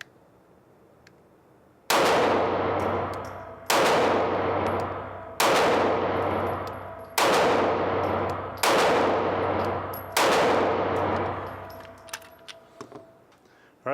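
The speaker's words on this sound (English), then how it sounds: "this is our first 100 rounds through the Taurus G2c" Six sharp 9mm shots from a Taurus G2c pistol at a shooting range ring out at an even pace about two seconds apart, each loud crack trailing into a decaying echo, with a few light metallic clinks afterward.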